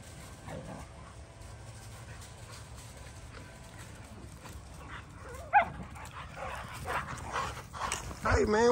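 A dog whimpers and gives a few short barks outdoors in a yard, faint at first and then louder and closer near the end, with people talking throughout.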